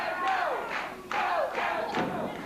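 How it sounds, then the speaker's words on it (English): A 1979 wrestling arena crowd chants and yells in rhythmic surges for Kevin Von Erich, loud rising cries repeating roughly every half second over a dense roar. "The crowd begins to chant and yell for Kevin Von Erich"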